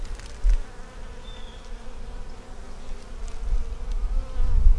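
Honey bees buzz continuously around an open small nuc hive during an inspection, a close, dense droning hum with a few louder swells.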